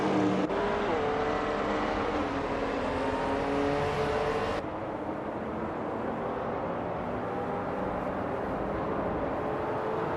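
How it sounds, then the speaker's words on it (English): A 1969 Chevrolet Corvair Monza racing in a video game, its engine droning steadily with shifting tone as it drives, then dropping to a slightly duller, quieter hum partway through. "Quiz 44 is driving a 1969 Chevrolet Corvair Monza"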